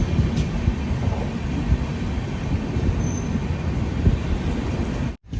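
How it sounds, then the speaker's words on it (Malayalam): Netravati Express sleeper train rolling through a long tunnel, a steady dense rumble of wheels and carriage noise throughout, with faint squeals, ending in a sudden cut. "ട്രെയിൻ ഇപ്പോൾ അടുത്തൊരു സ്റ്റേഷനിലെത്തിയിരിക്കുകയാണ്"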